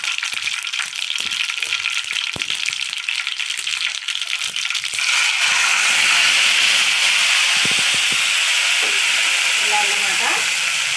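A ground tomato and onion paste hits hot oil with curry leaves in a pan for Nellore-style fish curry, giving a loud steady sizzle and hiss that swells midway, with a few stirring clatters.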